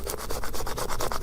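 Rhythmic rubbing strokes of transfer tape being smoothed down over a vinyl decal, close and fairly loud, a steady back-and-forth scraping repeated about a dozen times with no talking.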